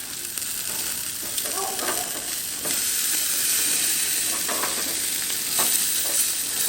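Skirt steak and flanken-style ribs sizzle on a grill, a loud continuous hissing crackle close up with occasional pops and shifts as the meat is moved.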